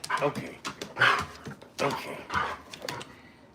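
A dog whimpers and gives short yips and barks in bursts, close by, mixed with a person talking to it affectionately.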